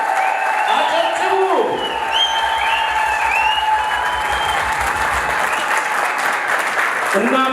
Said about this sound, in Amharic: እስቲ በድጋሚ ይህ ጭብጨባ በቂ አይደለም